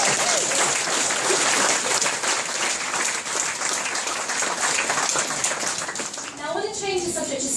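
Audience applause at a talk on drugs and addiction, a dense, steady roar of clapping that holds loud throughout, with a brief dip near the end.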